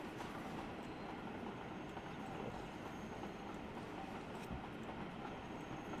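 A steam-hauled train of Pullman coaches runs steadily in Transport Fever 2, a continuous rumbling rail roar with faint clickety-clack, moderately loud and unbroken, with no talk.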